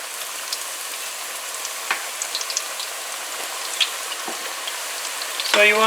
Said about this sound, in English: we had put our oil to heat up here and it's now hot, so we're going to start frying.